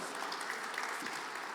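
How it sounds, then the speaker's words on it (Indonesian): Church audience applauding, a brief, fairly faint and even spatter of many hands clapping with no voices over it. "kasih tepuk tangan dong yang luar biasa dong"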